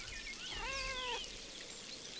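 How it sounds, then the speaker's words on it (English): A single close cat meow in the video game Pentiment, a short rising-and-falling call that lasts about half a second over quiet room noise. "Pet the cat."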